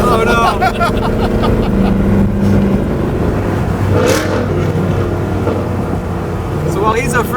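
A Ford Bronco Raptor accelerating hard on the Road America track, its engine droning loudly and continuously from inside the cabin while people talk over it.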